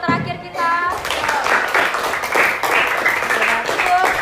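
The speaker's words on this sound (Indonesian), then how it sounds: "tepuk tangan dulu untuk kelompok terakhir kita" A fifth-grade primary school class claps for the final student group, a dense burst of hand claps filling the room after brief talk at the start.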